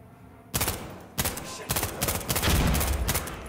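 Heavy gunfire during a co-op match of Insurgency Sandstorm, loud overlapping volleys of automatic shots in several bursts after a quiet start, with no talk.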